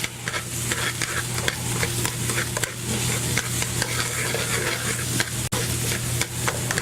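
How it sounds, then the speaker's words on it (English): Mushrooms sautéing in oil in a pan for stuffed mushrooms, a dense, steady sizzle close up with occasional stirring scrapes, no voices. "just sauteing that up, the mushrooms are going to start to suck up the oil"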